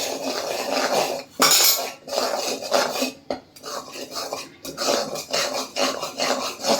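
A spoon stirring turmeric, cumin and coriander powders with besan in oil in a pan for spiced potatoes, giving close, rhythmic metallic scraping and clinking strokes with brief pauses between bursts.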